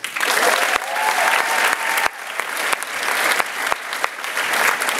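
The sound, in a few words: audience applause at veterans day ceremony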